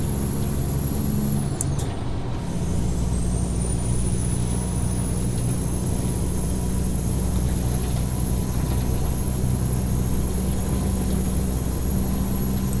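A Peterbilt 377 truck drives in American Truck Simulator with a steady, loud engine drone and a constant high whine. A brief hiss near the start resembles an air brake release.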